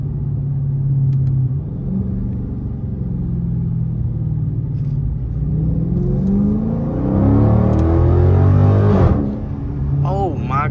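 2023 Dodge Scat Pack with Dynomax Race Bullets, its deep exhaust rumbling while driving in traffic, rising through a loud revving pull before easing off, with a person talking over it.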